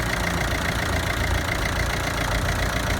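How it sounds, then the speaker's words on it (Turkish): A Ford 1.6 TDCi diesel engine idles steadily after a fuel filter change, a loud, close, even rumble with a faint knocking texture and no talking. "gördüğünüz gibi motor çalıştı"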